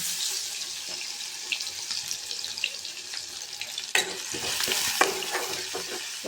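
Chopped onion for cauliflower fry sizzles in a hot pan, a continuous crackling hiss that surges suddenly as more goes in, with scraping stir strokes throughout.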